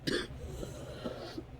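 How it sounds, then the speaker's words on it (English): A person coughs a couple of times, clearing the throat, close and fairly soft with no other sounds around it. "a little bit of cough this morning."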